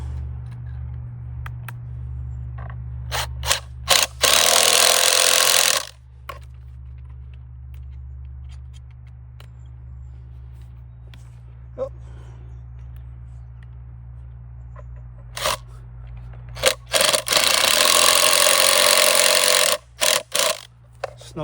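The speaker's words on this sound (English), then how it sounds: "Then we'll attach the screws to those holes, and the bracket will be installed." Screws driven with a power drill to mount a hose reel bracket for a retractable garden hose, two loud sustained bursts of motor whir separated by quiet handling clicks, close by.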